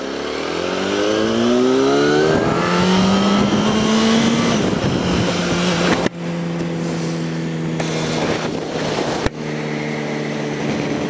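Cars roar past one after another on an Isle of Man road near Castletown and the airport, engine notes rising and sliding in pitch, loud and close, with sharp cuts between passes.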